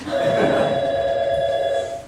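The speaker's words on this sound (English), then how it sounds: "First phone call." A church office telephone rings steadily and loudly for about two seconds, one continuous bell-like ring with no talk over it.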